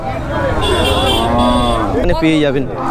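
Cattle at a cattle market moo loudly and up close, several long drawn-out calls overlapping, with a faint murmur of a crowd in the background.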